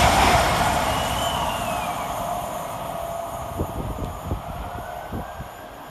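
A Great Western Railway class 802 train passes on the fast line at Hanwell station, a rising rush and rumble that fades as it goes by, with rhythmic wheel thumps over rail joints toward the end.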